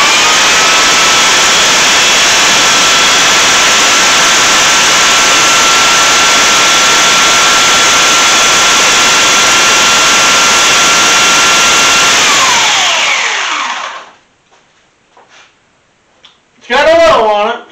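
Greenworks electric pole saw running, a loud, steady motor whine that holds for about thirteen seconds, then winds down and stops, followed by a few faint knocks and a short burst of speech.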